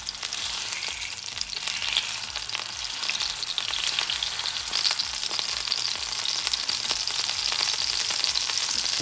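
A thick ribeye steak fries in a hot pan, giving a steady, loud, crackling sizzle that carries on without pause and with no talking.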